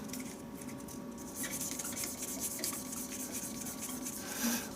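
A turned wooden shaving-brush handle is rubbed while it spins on a lathe, giving a steady close dry rasping friction over a constant motor hum, with no one talking.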